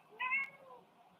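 A grey cat meows once, a short clear close call that rises and falls, alone in a quiet room.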